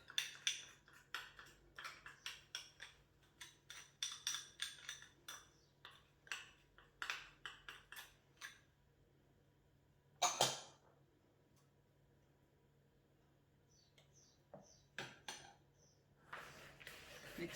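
A spoon works flour, chocolate chips and syrup together in a bowl for cookie dough, making quiet, rhythmic scraping clinks that pause briefly, return in a sharp burst, then resume near the end.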